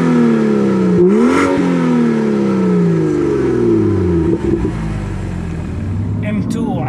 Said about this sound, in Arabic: خلينا نطلع بالسيارة جولة سريعة على الشوارع